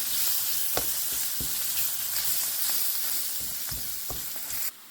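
Green chilies frying in a pan with other cooking ingredients, a loud continuous sizzle broken by sharp stirring taps and scrapes, close and alone throughout.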